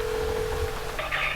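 Satellite phone dialing aboard sailing vessel Cerebral Sabbatical far out on the ocean: a steady tone, then bursts of higher electronic keypad tones near the end, heard close and alone.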